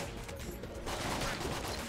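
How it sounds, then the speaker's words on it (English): Rapid-fire gunshots from a gun in the video game Enter the Gungeon, a dense, quiet burst of shots that picks up and runs continuously through the second half. "an awesome gun that you can fire as fast as you can pull the trigger. You can probably hear it through the mic"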